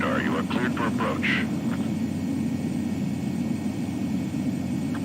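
A jet aircraft in Ace Combat 7 on Xbox Series X approaches for landing, its engine a steady, loud, broad roar that runs through the whole stretch while radio voices talk over it.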